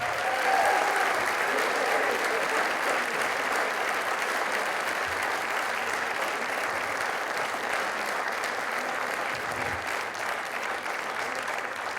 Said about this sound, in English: a round of applause for our top 20